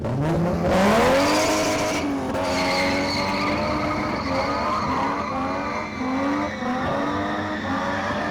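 A street car, the kind spun in a community spinning event, revs hard with its engine climbing and tyres squealing and skidding; loud and continuous, close by.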